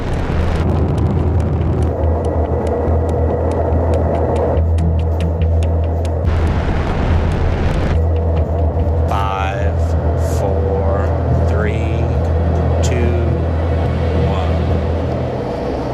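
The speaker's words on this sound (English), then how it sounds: "The team cranks up the vibration to full strength." A vibration test rig runs at full strength on a space shuttle component. It makes a loud, steady low-pitched throbbing hum with rattling overtones, while voices talk intermittently over it.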